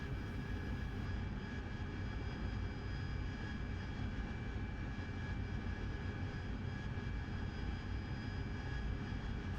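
Steady, loud AV-8B Harrier jet engine drone in a flight simulator with power eased back slightly, a continuous broadband roar with constant whine tones, unbroken for the whole stretch.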